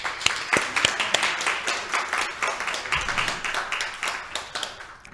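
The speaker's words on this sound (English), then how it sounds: "Give yourselves applause." An audience at a creative writing showcase claps, with distinct, fairly close hand claps that start crisp and sparse, then blend into a thinner, fading round of applause.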